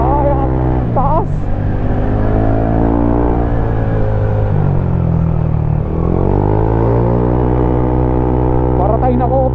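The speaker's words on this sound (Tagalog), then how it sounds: "Ang ingay naman na ng pipe natin." Loud motorcycle exhaust on a ride along a rural route in La Union, a deep steady droning rumble with wavering pitch, heard under a rider's voice speaking throughout.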